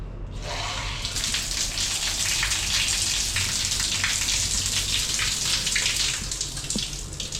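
Shower water in a hotel bathroom in Penang, Malaysia, starts up with a sudden rush and then runs steadily and close, a constant hissing spray with no talk.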